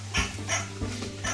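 A small dog gives several short, sharp yips in quick succession, close and loud in an indoor room, with no talk over them.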